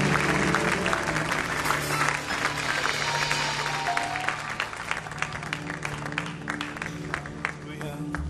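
A church congregation at a special thanksgiving service applauds and acclaims the Lord, with sustained, dense clapping and cheering voices that hold steady throughout, the crowd mixed with music and calls.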